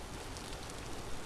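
Rain pours through a missing roof in the survival game Vintage Story, a steady, even hiss of falling water with no breaks.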